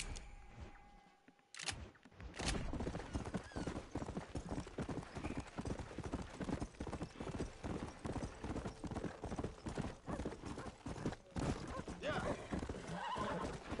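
Horse hooves clip-clop at a steady gait in the Red Dead Redemption video game, with a whinny early on; the hoofbeats go on through most of the stretch, alongside other game sounds.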